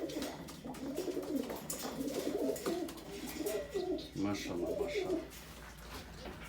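Several pigeons coo nearby in low, throaty, repeated calls that overlap, with a soft murmur in the background.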